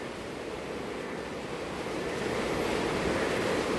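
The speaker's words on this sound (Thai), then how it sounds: "น้ำทะลักเข้ามาจากข้างนอก" Continuous rushing floodwater pouring into a factory, a broad steady roar that swells slightly louder toward the end, with no voices.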